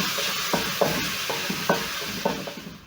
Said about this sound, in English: Stir in the spices so that the spices can cook together with the onion.